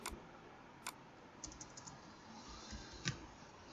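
Computer keyboard keys click as a short filename is typed, a quiet scattered run of light taps with a few sharper clicks over faint background hiss.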